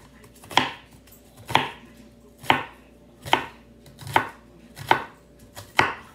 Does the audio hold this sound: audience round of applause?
no